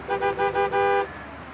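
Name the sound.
car horn honking in traffic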